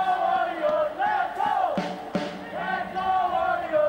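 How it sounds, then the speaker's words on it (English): Basketball crowd in an ABL 2013 game between Indonesia Warriors and Slingers chanting "Let's go Warrior", loud rhythmic massed voices in repeated phrases with a brief burst of noise midway. "The crowd chants, "Let's go Warrior, let's go.""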